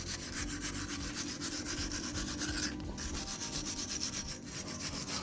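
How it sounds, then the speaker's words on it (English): A wire brush scrubs the front brake hub of a 2007-2014 Skoda Fabia during a disc and pad change. It makes a continuous scratchy rasping of quick repeated strokes at moderate level, with no talking. "now we're just going to wire brush this hub a bit"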